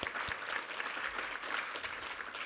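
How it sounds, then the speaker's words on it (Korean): A church congregation at a Sunday worship service claps together in praise, a short, steady patter of many hands at moderate loudness. "우리 하나님께 감사와 영광의 박수 올려드리겠습니다."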